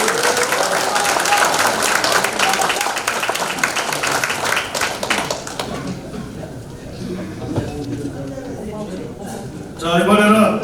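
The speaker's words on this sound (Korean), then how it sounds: "심찬 박수 부탁드립니다" Audience applause fills a hall at a 2023 political assembly, loud and continuous for several seconds, then fades out as someone speaks over a PA system.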